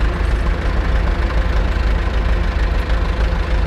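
An Ursus C-360 tractor engine sits at very low idle, giving a loud, steady, close-up diesel rumble with a fine knocking texture and no talk.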